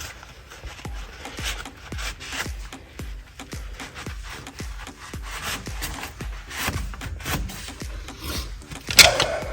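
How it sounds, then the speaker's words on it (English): A steering control arm piece being sanded back by hand in a DIY disc brake swap, with quick repeated rasping strokes in a steady back-and-forth rhythm, close up, ending with a brief clink. "We also have to take and sand back the steering control arm piece that attaches over here because it interferes with one of the bolts"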